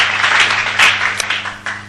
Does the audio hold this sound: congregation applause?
yes